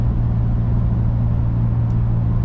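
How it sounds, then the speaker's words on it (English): A new 2024 Ford Ranger Raptor pickup truck cruising, its engine a steady low hum with road rumble filling the cab, constant and unbroken for a few seconds. "see me driving in my brand new 2024 Ford Ranger Raptor"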